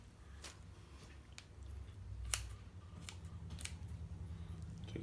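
Quiet snipping of scissors cutting skin off chicken, a few short crisp snips over a soft low background hum, close and faint.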